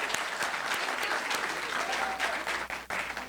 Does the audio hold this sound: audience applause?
yes